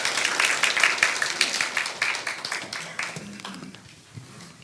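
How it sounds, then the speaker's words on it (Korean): A church congregation at a Sunday worship service applauds, brisk clapping from many hands near the microphone that is loud at first and gradually thins and fades out toward the end. "우리 함께 목사님 보내주신 하나님께 영광의 박수 올려드릴까요?"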